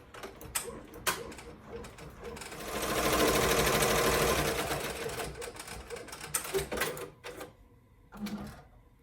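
A Ricoma EM1010 embroidery machine stitches the stripes of an animal-print key chain, a fast steady mechanical clatter that swells in the middle and then breaks into shorter bursts, close and moderately loud with no talk.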